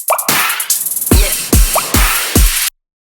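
Dubstep drum loop with a crash cymbal layered onto each kick: four heavy, punchy kick hits land about half a second apart, each with a bright splash of cymbal wash, after a busier opening burst, then the loop cuts off abruptly.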